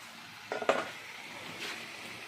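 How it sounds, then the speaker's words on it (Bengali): Chicken pieces dropped into a pan of fried spices for a Bengali-style chicken and potato curry: a quick metallic clatter of the pan and utensil, followed by a short swell of soft sizzling. "মা মাংস দিয়ে দিচ্ছে।"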